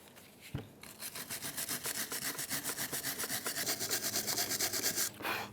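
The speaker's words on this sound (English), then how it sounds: "grab a wire brush, and we're going to clean up the channel where our hardware is going to go" Rapid, steady back-and-forth scrubbing of a wire brush against the rusty hardware channel of a rear brake caliper bracket on a 2011-2017 Honda Odyssey, close and loud, with a single knock just before it begins.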